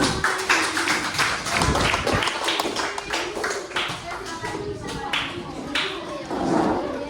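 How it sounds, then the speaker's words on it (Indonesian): Scattered classroom applause with uneven claps from a group, continuing for several seconds while voices chatter underneath. "kita beri tepuk tangan"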